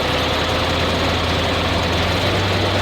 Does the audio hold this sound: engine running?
yes